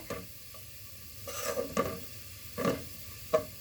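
Onions frying in a pan until browned for beef tehari, a faint steady sizzle with a few stirring scrapes of a spoon against the pan.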